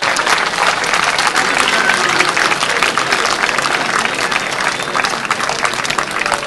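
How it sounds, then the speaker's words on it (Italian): A large audience claps steadily and loudly throughout, dense applause with no pauses, at a show in San Vendemiano, Italy. "questo applauso è stato registrato"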